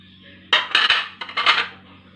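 Paneer cutlet mixture with capsicum is stirred in a bowl, a spoon knocking and scraping against the dish in two short bursts of clattering.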